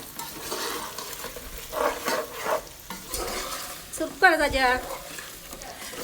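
Fried fish pieces being stirred into a pickle masala in a pan, a steady scraping stir under soft sizzling, with a louder burst of clattering stirring near the end; no one speaks.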